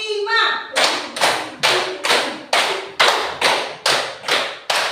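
Children in a classroom clap together in a rapid rhythmic pattern, about ten crisp unison claps in pairs and runs, loud and near, after a brief voice at the start.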